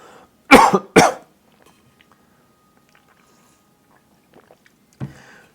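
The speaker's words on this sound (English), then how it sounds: "I'm glad I ended that on a coughing note there." Two sharp, close coughs in quick succession from a lone adult, followed by near silence and a faint third throat sound a few seconds later.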